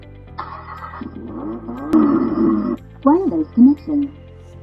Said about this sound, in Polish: Po odpaleniu silnika uruchomi się dźwięk.